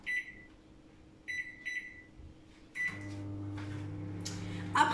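A microwave oven set to 600 watts: a few short electronic beeps, then a door thud and the steady low hum of the oven running, ending with a brighter clatter.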